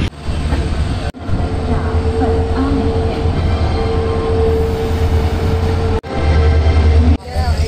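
The High Court Express intercity train on the Jodhpur to Jaipur run pulls out of Nawa City station after a short stop, giving a steady loud rumble of rolling wagons that continues throughout, with two brief dips and clanks along the way.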